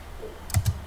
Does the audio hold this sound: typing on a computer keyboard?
yes